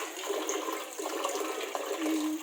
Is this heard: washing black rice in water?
yes